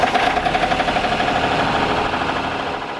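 A liveaboard sailboat's engine runs steadily after restarting, with a close, loud, rhythmic chugging and knocking that holds even, then eases slightly at the end.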